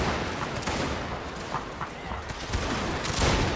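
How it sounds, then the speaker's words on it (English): A dense, continuous crackle of massed rifle fire as troops unleash a volley in a Total War strategy game, with the shots blurring into a steady roar and brief louder bursts throughout. "my troops open fire"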